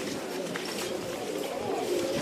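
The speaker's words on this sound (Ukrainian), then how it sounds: "Абсолютно всюди тут голуби." Soft pigeon cooing murmurs through steady background noise at Mezhyhirya in Ukraine, low and continuous, with a voice faintly present.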